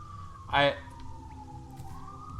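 An ambulance siren passing outside, a faint wailing tone that slowly falls then rises again in the background, with a brief loud burst of another sound near the start.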